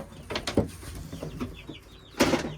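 About ten baby chickens kept indoors give short, scattered high peeps and soft clucks in a few quick bursts, close by, with quiet gaps between calls.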